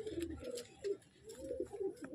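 An Andhra (Chennai breed) breeding pigeon coos close up in a few low, throaty, rolling phrases with brief gaps between them.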